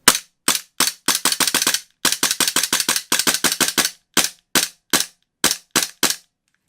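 Tokyo Marui G18c airsoft pistol fitted with a Loki tactical slide kit and a stock recoil spring, firing a long string of sharp, close cracks, first in single shots and then in quick bursts, with short gaps between them and no talk.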